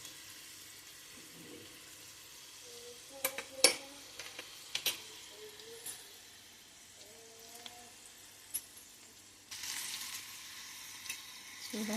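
Black sesame seed modhukalu frying in hot oil while being turned slowly. A soft, steady sizzle runs throughout, with occasional utensil clinks and taps, then a louder, brighter burst of hissing near the end. No one speaks.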